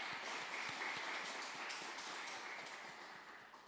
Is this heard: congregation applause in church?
yes